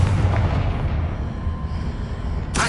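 A Confringo fire spell bursting in Hogwarts Legacy, a dense rumbling blast that rolls on through the whole moment, followed near the end by a sudden bright crack of another impact.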